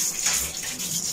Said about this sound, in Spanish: cuando baño a mi perrita, lo primero que hago es que la mojo un poquito